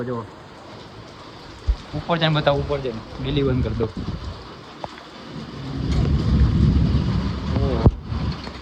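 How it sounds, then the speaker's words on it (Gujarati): Heavy rain in Junagadh hisses steadily in the background while people talk over it, the downpour swelling louder toward the end. "આજે જુનાગઢમાં અસલી વરસાદ ચાલુ થયો હે."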